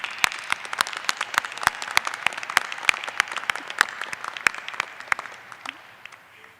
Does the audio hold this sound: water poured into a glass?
no